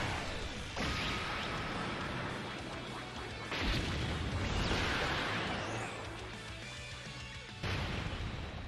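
Piccolo's Special Beam Cannon attack in a Dragon Ball mobile game erupts in several booming explosive impacts and crashes, each followed by rumbling decay, loud and layered with game effects.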